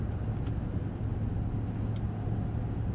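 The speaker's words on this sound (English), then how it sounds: "There is a bit of wind noise, a little bit more than I would expect from a large truck like this" Steady low road rumble and rushing wind noise inside a 2020 Chevy Silverado 2500 pickup truck cruising at 75 mph, a constant dense roar with no talking.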